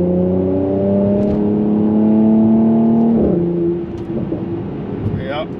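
A Mercedes-AMG C43 coupe accelerates hard, its engine note climbing loud and close for about three seconds, then backing off into a burst of exhaust crackles and pops as the revs drop.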